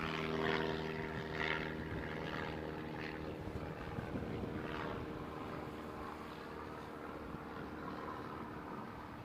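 A propeller aircraft approaches Christchurch Airport, its steady droning engine noise rising and holding at moderate distance, with no talk over it.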